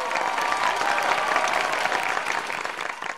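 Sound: studio audience applause

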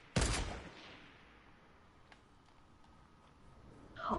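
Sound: gunfire from a video game

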